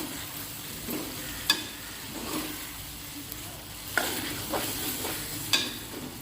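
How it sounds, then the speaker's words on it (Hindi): Ridge gourd sautéing in a pan for a home-cooked curry, a continuous sizzle broken by several sharp scrapes and knocks of the spoon as it is stirred. "हुण मैं तोरियां की अच्छी तरह बुनाई करांगी।"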